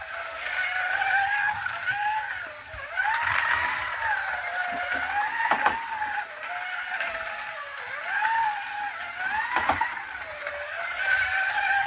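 A Scalextric Mini 1275GT slot car racing around a track, its thin electric motor whine rising and falling as it laps, with occasional sharp clicks and rattles from the track.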